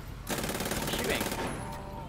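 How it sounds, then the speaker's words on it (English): Rapid automatic gunfire in GTA roleplay on NoPixel rattles in a dense continuous burst for over a second, then cuts off. "Shooting."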